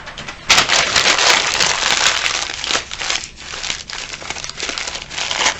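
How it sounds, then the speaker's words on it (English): Sheets of newspaper are crumpled and squeezed into a ball close by, a loud, continuous crackling crinkle that surges and eases over several seconds, with no voices. "If you'd like to make something that looks like a jelly donut, you need to make a ball of newspaper."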